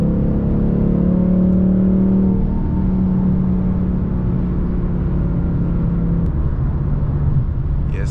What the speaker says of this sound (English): I need to open up the exhaust so this joint will pop